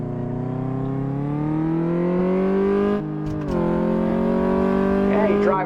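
Car in Car Mechanic Simulator 2014, driven hard on a test drive: a loud engine revving and climbing steadily in pitch, with a brief lift and a gear change midway before it pulls again.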